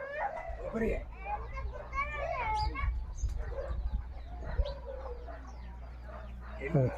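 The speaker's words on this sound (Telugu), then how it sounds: "ఇక్కడ మాత్రం పుంజులు మాస్తున్నాయి" Roosters crow and chickens cluck nearby in a tribal farming village while people talk over them, with a steady low hum in the background.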